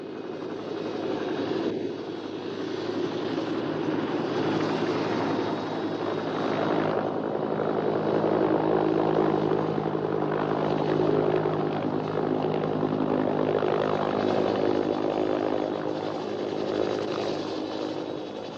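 A loud, steady engine drone of a military helicopter fills the whole stretch, swelling slightly in the middle as if passing close overhead.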